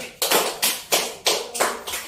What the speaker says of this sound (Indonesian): Tepuk tangan untuk kelompok terakhir